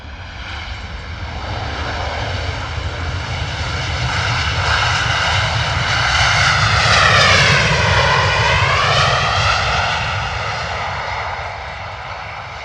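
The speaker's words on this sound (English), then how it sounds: "Nice and loud there from the Ryanair 737. Full noise." A Ryanair Boeing 737 roars during its landing rollout at London Stansted Airport, a loud sustained jet roar that swells and sweeps in pitch as it passes, then eases slightly.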